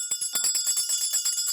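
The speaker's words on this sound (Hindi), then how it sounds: "महिला मंडल जो गोकुलधाम में ये घंटियां बजा रहा है" Many hand bells rung by a women's group in the Gokuldham housing society compound, a dense, rapid and continuous jangling of overlapping metallic strikes at steady loudness, with no talking.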